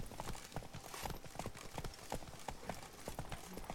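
Roach, a horse in The Witcher 3, gallops with a steady, rapid clip-clop of hooves that keeps going throughout, fairly close and continuous over ambient game noise.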